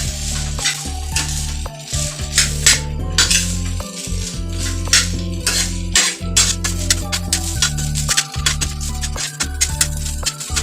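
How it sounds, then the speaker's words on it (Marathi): Egg rice stir-fried in a pan, eggs added last, with repeated metal spatula clanks and scrapes against the pan in an irregular rhythm over a soft sizzle, close and fairly loud. "आता हे सगळं मिश्रण खालून वर असं एक जीव होईपर्यंत व्यवस्थित परतून घ्या"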